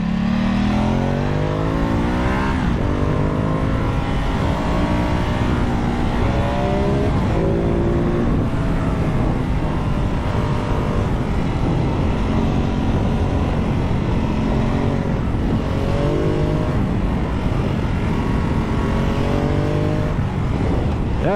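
A Ducati Multistrada 950 motorcycle engine runs steadily throughout a ride through a series of bends, rising and falling in pitch with each gear and throttle change, loud and close with constant wind.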